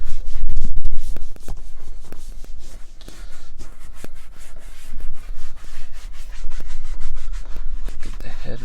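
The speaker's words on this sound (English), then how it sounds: "Take your microfiber towel and just wipe it all off" Microfiber towel wiping a leather car seat, brisk repeated rubbing strokes with a dry scuffing texture, close and fairly loud, in uneven bursts with short pauses between.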